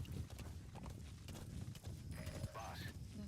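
A horse gallops in Metal Gear Solid V: The Phantom Pain, rhythmic hoofbeats thudding quietly and continuously beneath a man's speech and game radio voices.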